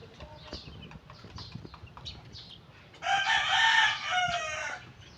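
Pet chickens crowing and clucking nearby, with scattered soft clucks and rustling giving way to a loud, sustained rooster crow in the second half.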